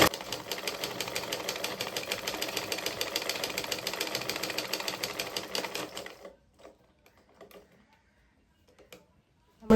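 Sewing machine stitching fabric along a neckline, a rapid steady mechanical chatter running for about six seconds, close and fairly loud, then stopping and leaving only a few faint clicks and handling sounds.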